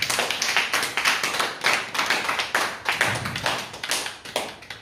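A church congregation applauds together in steady, rhythmic clapping that stays loud and full throughout, with no voices standing out.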